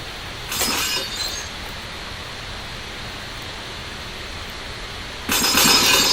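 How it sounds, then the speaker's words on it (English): Glass smashed and shattering in a video game: a loud crashing burst near the start with tinkling fragments, a steady noisy wash between, then a second heavy shatter at the end. "So we can smack this glass out."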